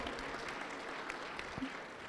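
Brief, moderate burst of audience applause at a real estate roadshow in Kagiso, a room of hands clapping for a couple of seconds with no speech.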